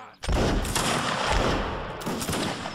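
A musket volley fired by a line of troops in a Napoleonic battle game, one loud, dense crackling burst that rolls on for about two seconds, with a second wave of shots near the end.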